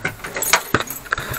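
A bunch of car keys jingles and clinks in quick metallic bursts, close and fairly loud, with no talking.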